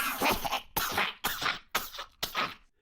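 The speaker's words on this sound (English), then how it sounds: "Harry hears a strange coughing and gagging noise behind him." A run of five harsh coughing and gagging bursts, each separated by a short silence, loud and close with no speech around them.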